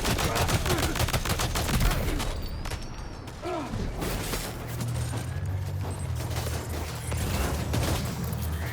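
Gunfire rattles at the player in Death Stranding 2, rapid loud bursts of shots cracking in quick succession with mechanical creaks and clanks between them, close and busy throughout.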